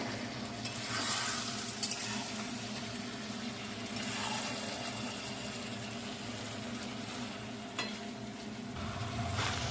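Mutton curry stir-fries in released oil, giving a dense, steady sizzle with scraping stirs up close, fairly loud and continuous from start to finish.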